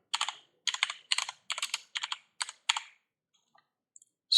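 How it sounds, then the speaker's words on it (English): Keys are tapped on a computer keyboard in quick close-up bursts, about seven clustered groups of clicks, followed by near silence and a last faint tap. "Let's type in"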